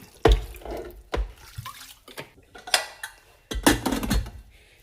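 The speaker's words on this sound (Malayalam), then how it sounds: "ചാറ് കറി ആയതുകൊണ്ട് അല്പം വെള്ളം ഒഴിക്കണം" Water is poured into a pressure cooker pot of pumpkin curry in a home kitchen: short splashing pours mixed with clanks of metal pots and utensils, close and intermittent, with no talk.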